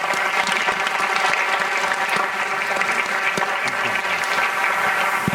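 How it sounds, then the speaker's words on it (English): A loud, dense round of applause from an awards-ceremony audience of parents and grandparents, steady and continuous throughout with no pauses. "can we give our audience a round of applause"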